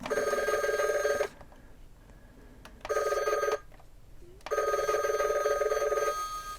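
Mickey Mouse limited edition animated telephone ringing, three long bursts of bright electronic trilling separated by short silent gaps, loud and close with no talking.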